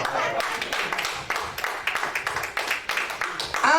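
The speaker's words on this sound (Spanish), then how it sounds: "Si usted está de acuerdo conmigo, denle un aplauso al Eterno." A church congregation claps together, a dense, uneven burst of hand claps that rises and falls in waves for a few seconds, with a voice cutting in at the very end.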